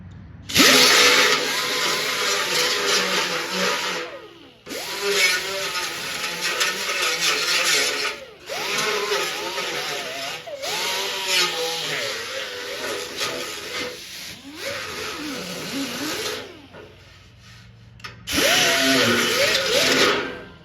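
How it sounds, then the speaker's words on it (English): A grinder removes welding slag from the back of a metal arcade power brick, running in loud, harsh bursts of a few seconds each with short quiet pauses between them. "I'm gonna grind the little bit of slag and stuff down on the back of the metal from welding"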